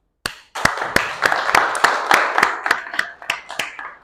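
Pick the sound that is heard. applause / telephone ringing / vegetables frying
applause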